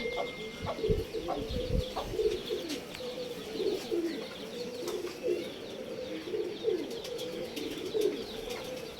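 Pigeons cooing repeatedly in a low, throaty murmur, several birds close by, with a faint background hum and occasional higher chirps.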